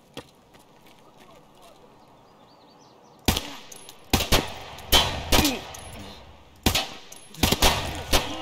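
Shotgun blasts in the Escape from Tarkov video game ring out after a quiet stretch: sharp, loud reports arriving one at a time at irregular intervals, several shots in quick succession, with no talk over them.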